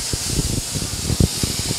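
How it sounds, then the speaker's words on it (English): Lemon juice hits a hot pan over a wood fire, making a steady, close hiss with crackling pops throughout and no voices. "It's really sizzling back here."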